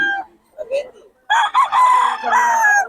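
Young roosters (stags) in Bocaue, Bulacan crow close by, two or three loud calls following one another, with a softer cluck or call at the start.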